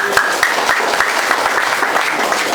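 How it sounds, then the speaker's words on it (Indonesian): An audience at a stop-smoking therapy session bursts into loud, close applause, many hands clapping in a dense, even roar that holds for a couple of seconds. "tepuk tangan untuk Mas Gofur."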